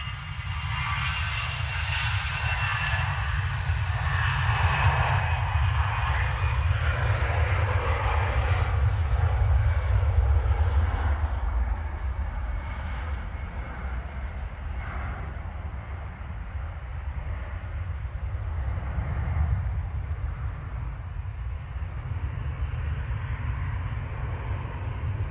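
An easyJet Airbus A320 rolls down the runway at Manchester Airport for takeoff, a loud, sustained low-frequency jet roar building and holding steady with no talk over it.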